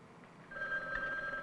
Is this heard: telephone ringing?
yes